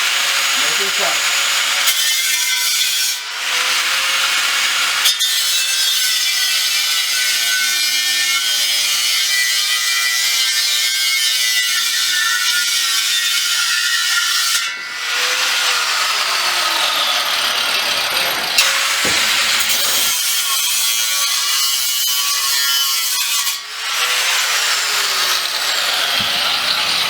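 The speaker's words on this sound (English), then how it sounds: "And now I'm grinding the opening in the front." An angle grinder cuts an opening into the front of a steel propane bottle being made into a forge, a loud continuous harsh grinding whine that runs almost the whole time with brief dips in pitch and pressure.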